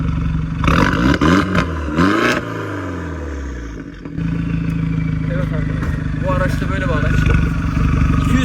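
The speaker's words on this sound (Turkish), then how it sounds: "Şöyle bastığım zaman zaten egzozun sesi otomatikmen değişiyor." A Peugeot RCZ sports car engine revs and then settles into a deep, throaty exhaust rumble, with a person talking over the engine at the start.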